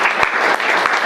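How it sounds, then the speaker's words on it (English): Enthusiastic audience applause at a talk, a dense steady burst of clapping from a crowd, loud and close throughout. "Let's clap for this guy."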